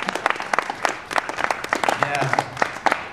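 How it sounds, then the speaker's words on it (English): Thin, scattered clapping from a standup comedy audience, a handful of separate claps that never build into full applause, heard over a faint room murmur. "it was pretty painful to hear that pathetic applause"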